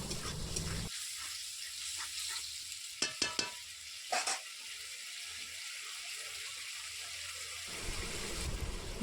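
Water added to dried fish in a hot pan hisses and bubbles steadily, with a few brief clinks of stirring partway through, close and moderately loud.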